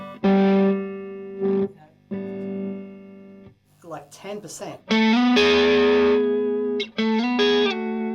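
Electric guitar played on the neck pickup through a gold Dunlop Fuzz Face pedal with the guitar volume rolled back, giving sustained fuzzy chords and notes broken by short gaps, with someone speaking briefly mid-passage.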